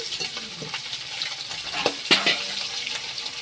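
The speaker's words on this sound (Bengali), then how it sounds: "এবার ঢাকা দিয়ে মাছের মাথাগুলো আমি ভেজে নেবো ভালো করে" Hilsa fish heads fry in a pan, giving a soft, close sizzle. It is broken by a few stirring scrapes and clinks.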